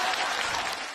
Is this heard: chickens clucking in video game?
no